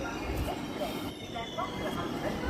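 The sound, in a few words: Shalimar Express train running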